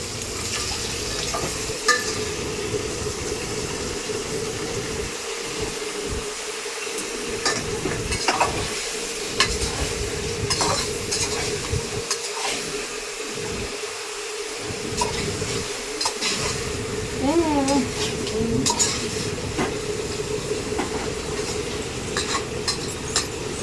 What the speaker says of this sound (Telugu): ఫస్ట్ ఇక ఉల్లిగడ్డ వేసినాం, నూనె పోసినాం. ఇగో ఉల్లిగడ్డలు వేసి చికెన్ అయితే వేసిన.